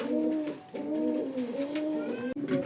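A pair of Sirajganj pigeons coo close by, a rhythmic rolling burble repeated several times in quick succession, with no talk.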